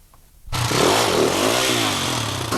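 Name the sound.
enduro motorcycle engine revving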